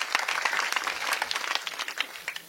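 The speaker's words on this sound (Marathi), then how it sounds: "त्यांच्यासाठी एकदा जोरदार टाळ्या वाजवा" An audience at a kirtan breaks into brisk, dense clapping, loud and close, filling the whole stretch without talk.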